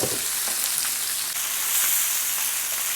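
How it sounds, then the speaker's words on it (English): Stuffed squid, Mangalorean style and stuffed with rice, sizzles and fries hard in a pan on high heat, a steady close crackling hiss with occasional sharper pops and no voices. "And I'm going to cook this on high heat for about 2 minutes on each side."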